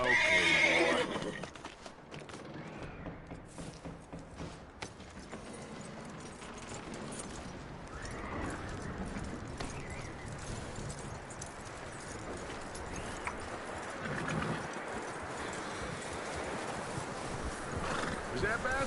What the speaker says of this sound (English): That looks like a decent horse. You should keep him. Get that horse hitched.